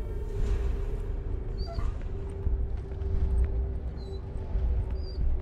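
A dog whimpers in the video game Beyond Two Souls, with faint high whines rising over a steady low rumble and constant background drone.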